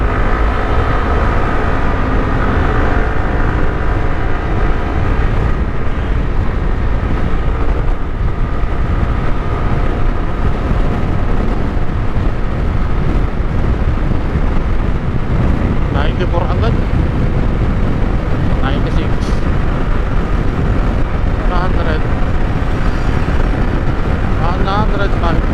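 An FKM Venture ADV 150cc scooter makes a top speed run in Magallanes, its engine droning steadily with heavy wind rush across the microphone throughout.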